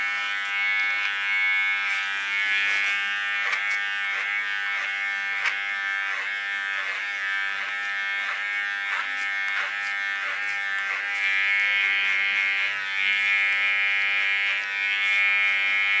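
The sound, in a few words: electric hair clippers shaving the nape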